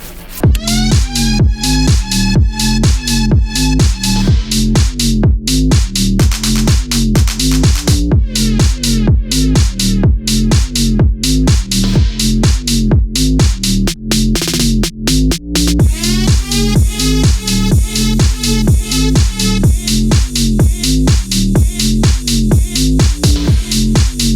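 A loud tech house track with a driving four-on-the-floor kick, punchy bassline, crisp hi-hats and layered synth chords, playing continuously.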